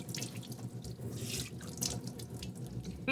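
Water runs steadily from a sink tap in a camper van, a continuous close rushing flow with no talking.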